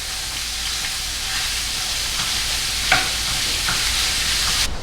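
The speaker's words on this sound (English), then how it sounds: "So we got a pound of ground beef. And we're gonna brown that." Ground beef browning in an oiled pan as the filling for taco-stuffed peppers gives a steady, close sizzle with occasional brief stirring scrapes.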